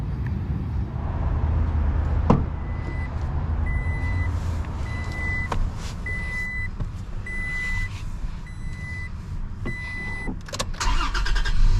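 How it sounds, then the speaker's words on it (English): A 2022 Toyota Tacoma TRD Sport pickup with a 6-speed manual starts with a brief thump, then settles into a steady, close engine rumble under a series of evenly spaced electronic beeps, with louder rustling near the end. "let's go ahead and take this TRD Sport on a POV test drive and see how it does."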